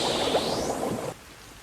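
Steady rain from a film scene in Cast Away hisses broadly and evenly, fairly close, then drops away abruptly near the end, leaving a faint quieter background.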